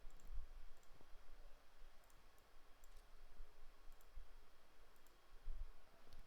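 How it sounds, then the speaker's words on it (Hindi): Mouse clicks made while holding Alt during work in Illustrator, several faint, sharp clicks spread at irregular intervals over a low, quiet background hum. "ऑल्ट दबा के क्लिक"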